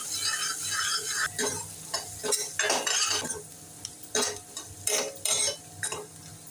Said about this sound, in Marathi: आता आपण बारीक चिरलेला कांदा घालूया कांदा पण फ्राय करून घेऊया